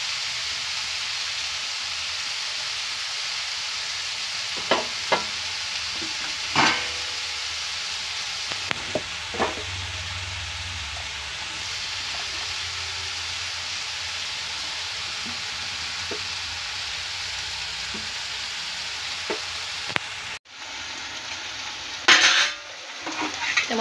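Two kilos of finely chopped eggplant going into a pan of onions for baingan bharta, with a steady frying sizzle and occasional spoon scrapes and clinks against the pan, close and alone without voices.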